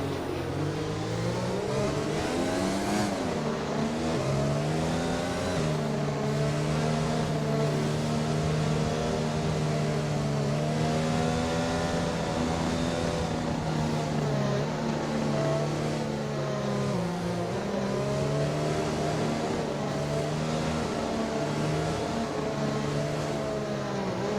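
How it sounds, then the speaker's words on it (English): GP2 race cars accelerate through turn 1 at the start of the United States Grand Prix, a dense roar of high-revving engines with rising and falling pitch sweeps as the pack passes, loud and sustained throughout. "All 20 cars going through nice and smooth."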